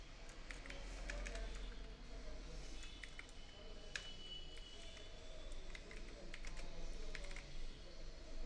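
Someone types on a computer keyboard while setting up a web banner design. Quiet, scattered key clicks come in short irregular runs over a low room hiss.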